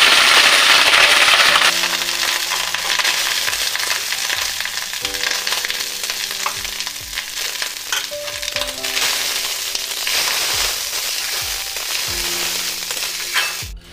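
Pre-boiled rice fries with vegetables in a hot pan, a steady loud sizzle up close with intermittent scraping and stirring knocks of a utensil, and no talking.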